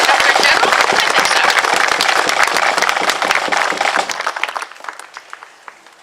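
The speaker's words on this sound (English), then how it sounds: "I think that deserves a round of applause for our astronaut Governor General." A crowd at a cadet squadron opening ceremony in Bradford, Ontario gives dense, loud applause that goes on for several seconds, then thins out and dies away.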